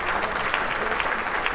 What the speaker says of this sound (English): how about a round of applause for Josh Taylor?